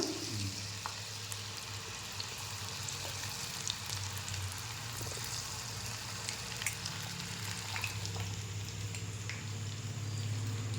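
Coated baby corn deep-fries in a pan of hot oil, giving a continuous dense bubbling sizzle with scattered small pops, steady and moderately close.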